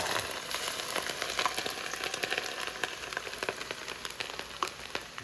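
Hot avocado oil poured over chicken in a pan for spicy garlic noodles crackles and spits, a dense close sizzle with scattered sharp pops throughout, no voices over it.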